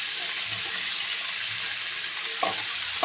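Leafy greens frying with garlic in a pan, a steady close sizzle with a few sharper crackles and stirring scrapes toward the end.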